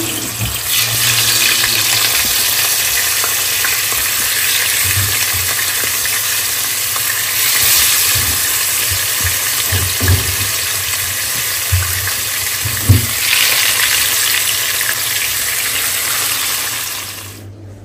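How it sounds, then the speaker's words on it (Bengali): Pieces of hilsa fish fry in hot oil with a loud, continuous close sizzle, broken by a few utensil knocks and clatters, with no voices. "ইলিশ মাছগুলো বিসমিল্লাহ হালকা করে ভেজে নিব"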